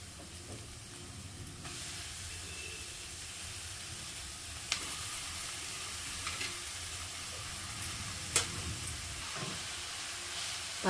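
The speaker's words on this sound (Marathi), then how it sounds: "पालेभाजी आपण चांगली परतून घ्यायची तेलावरती पहिले।" Cowpea leaves sauté in hot oil over onions, giving a steady close sizzle with light stirring scrapes and a few sharp clinks from the pan, no talk.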